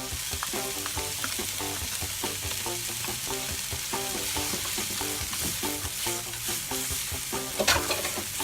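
Vegetables for white turkey chili fry in a pan with a loud, steady sizzle, while a spoon stirs in regular scraping strokes throughout.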